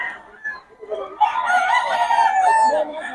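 A Boston Roundhead gamefowl rooster gives a single loud, close crow after a few softer sounds, with voices nearby.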